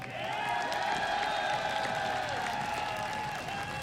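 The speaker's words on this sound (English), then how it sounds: "First of all, round of applause." Applause and crowd noise from the audience at the League of Legends IEM San Jose 2015 final, a steady wash of clapping under a sustained musical tone, loud and continuous throughout.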